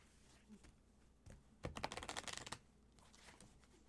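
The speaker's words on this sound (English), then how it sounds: "Give me room to shuffle" A tarot deck is shuffled during a live reading, giving soft paper riffling and tapping that swell into a dense burst of card flutter midway, close and fairly quiet.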